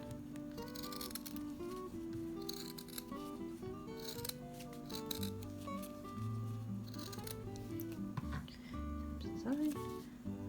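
Scissors cutting quilt fabric, rapid crunchy snips repeating in bursts close up, with a person talking through them.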